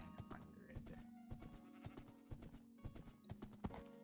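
A Minecraft horse gallops with rapid, rhythmic clip-clop hoofbeats, quiet and regular, with a faint neigh-like tone under the steps.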